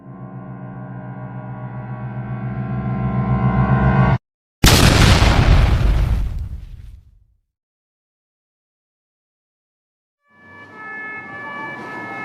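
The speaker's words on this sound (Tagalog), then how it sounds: "Hindi inaasahang pagsabog ang naganap na kumitil ng buhay ng ilan sa mga residente ng Talon" A sustained siren-like tone builds, then a sudden loud boom cuts in and rumbles away into silence before a quieter tone returns.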